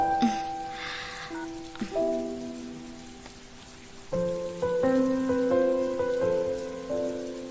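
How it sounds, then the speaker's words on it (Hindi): Heavy rain pours steadily in a continuous hiss beneath soft, sustained background music, with no voices present. "बारिश बहुत तेज हो रही है"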